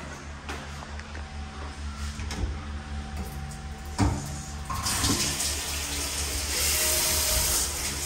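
Shower water running during a long-haul truck trip through Oregon and Washington: a faint tap-like trickle swells into a steady, louder hiss of spray partway through, with no talking.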